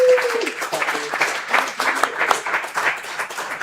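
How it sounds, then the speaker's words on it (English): Audience clapping for two guests at a marching band event at Willow Rock, a fairly dense patter of hand claps with some voices mixed in throughout, steady and moderately loud. "Clap it up for Nathan and David."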